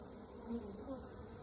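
Honey bees hum steadily around an open hive during an inspection, a soft close drone with faint wingbeat whines drifting past and no voices.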